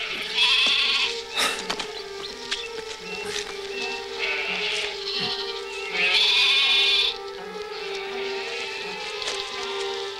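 Several sheep bleat in loud bursts, some overlapping, with a steady buzz of insects throughout and brief quieter gaps between calls. The sheep are sick with mange.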